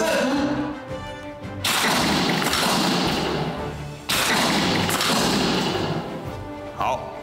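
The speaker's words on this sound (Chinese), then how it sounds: "开始射击。" Rifle fire on an army shooting range in Kinmen: two loud, sharp shots a few seconds apart, each ringing out in a long, rumbling echo over constant background noise.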